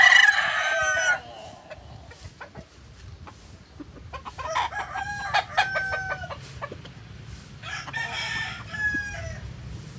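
A gamefowl rooster lets out a loud crow at the start, followed by scattered clucks and further crowing calls from birds around a breeding yard, with quieter stretches between.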